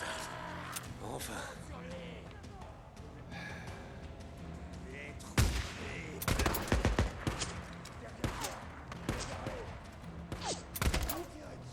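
Gunfire from a shotgun in the video game Days Gone, a handful of sharp loud blasts clustered in the latter half, with game ambience and scattered background sounds between shots.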